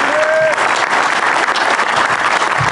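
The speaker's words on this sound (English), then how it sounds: "Give Tiffany a big round of applause" An audience at an amphitheater grand opening applauds loudly and steadily, a dense wash of clapping that lasts throughout, with a faint whistle near the start.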